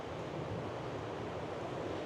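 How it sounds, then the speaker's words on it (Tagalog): Strong ocean waves at a beach, a steady, dense roar of surf heard alone at low level without distinct breaks. "Lakas talaga ng alon, guys."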